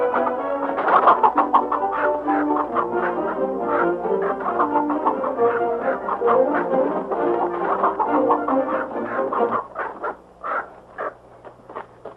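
Chicken clucking and squawking frantically while being caught, loud and close, a dense run of excited calls that thins into separate clucks near the end.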